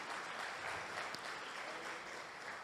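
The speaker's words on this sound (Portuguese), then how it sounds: "Você pode aplaudir o Senhor?" A church congregation applauds, producing a continuous, fairly quiet wash of clapping that stays even throughout, with no individual claps standing out.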